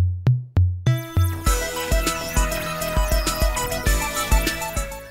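Modern theme music for The Skeptic Zone podcast opens with a few punchy, booming bass hits, then a full, layered arrangement kicks in over a driving pulse of rhythmic beats, loud and steady.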